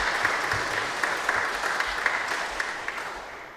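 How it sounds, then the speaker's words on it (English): An audience at a general election hustings applauds the candidates, a steady, moderately distant wash of many hands clapping that fades slightly at the end. "Give them all a round of applause."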